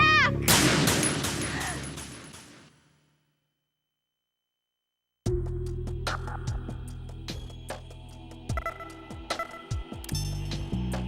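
Bursts of gunfire in Metal Gear Solid 2: Sons of Liberty, aboard the tanker, crackle densely for about three seconds, then stop dead; after a silent gap, game sounds return with scattered sharp shots and clanks over a steady background.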